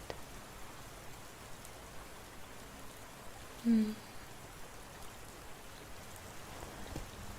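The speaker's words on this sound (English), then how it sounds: "I love the sound of rain." Steady patter of rain falling, a soft continuous hiss with no voices, and one brief low blip partway through.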